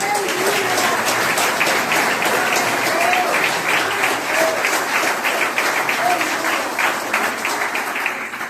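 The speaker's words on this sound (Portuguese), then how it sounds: "Aplauda esse Deus maravilhoso." A church congregation applauds loudly and continuously for several seconds, a dense sustained clatter of many hands, with a voice faintly audible over it.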